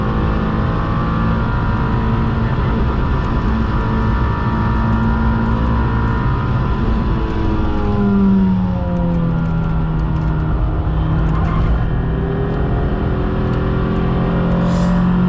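A Legends race car's 1200cc Yamaha engine drones loudly and continuously, its pitch dipping and climbing as it revs through gears, fairly close by, at Donington Park.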